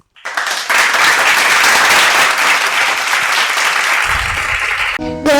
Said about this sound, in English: Please give a big round of applause as our grade 1 students present the naughty letters in phonics